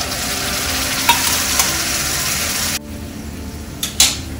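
Onion and cashew nuts frying in a pan give a steady, loud sizzle with light stirring clicks, then the sizzle drops suddenly and a couple of brief utensil knocks follow near the end.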